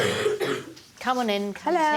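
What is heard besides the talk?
boy coughing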